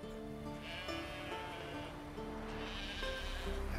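Sheep bleating in The Witcher 3: Wild Hunt, a few wavering animal calls rising over steady game music and ambient background, fairly close and clear.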